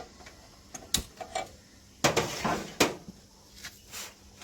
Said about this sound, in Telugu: ముందుగా మనం స్టవ్ వెలిగించుకుందామండి.